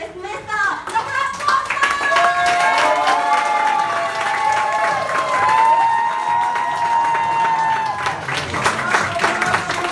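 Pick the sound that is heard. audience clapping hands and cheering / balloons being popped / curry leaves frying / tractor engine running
audience clapping hands and cheering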